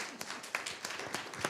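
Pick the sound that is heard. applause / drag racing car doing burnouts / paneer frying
applause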